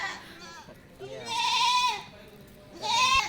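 A Rajanpuri Ablak goat bleats twice close by, each call a short wavering cry, with quieter farmyard background between them.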